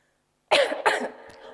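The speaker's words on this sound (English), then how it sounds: "Don't worry, it's a normal cough." Two close, forceful coughs from a single person after a moment of silence, the second slightly weaker, then a faint trailing breath; nearby and fairly loud with no talking.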